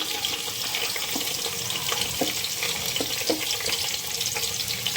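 Green chilies and onion frying in oil in a pan for aloo biryani, a steady loud sizzle with faint stirring scrapes running throughout, no voices.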